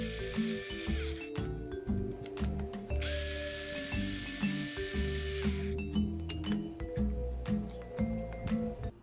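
A power driver removes the screws from an RC truck's skid plate, whirring in repeated short bursts with rhythmic ratcheting clicks up close, and no talking.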